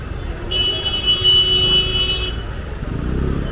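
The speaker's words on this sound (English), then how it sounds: "this is also very common tradition to honk without any reason in India" A car horn blares in one long sustained honk on a busy Delhi market street in Laxmi Nagar, East Delhi, over rumbling traffic and engines, then the street noise carries on.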